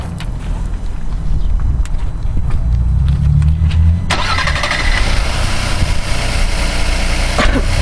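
A hybrid vehicle's engine starts partway through, shifting from a low rumble with scattered clicks to a steady, fuller running hum that continues to the end, with no talking.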